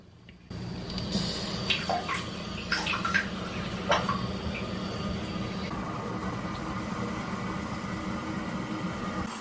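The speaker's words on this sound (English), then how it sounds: "as you start to turn the valve, you should be able to hear the water" Water rushes steadily from a supply valve into a Tushy bidet's water tank, starting abruptly with a few clanks and hisses, then settling into a continuous close flow.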